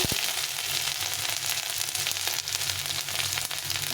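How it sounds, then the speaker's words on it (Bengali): Black cumin seeds and crushed ginger fry in hot oil in a pan, giving a steady, close, continuous sizzle for several seconds with no talk over it. "আমি একটু লাল করে ভেজে নিয়েছি এখন আমি এর মধ্যে দিয়ে দেবো কালো জিরে"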